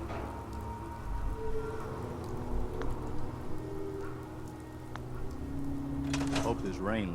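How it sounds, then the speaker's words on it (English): Steady rain pours and patters across the surface in Fallout 4, a continuous dense hiss holding throughout with a few faint knocks and a brief rising tone near the end. "Hope this rain lets up soon."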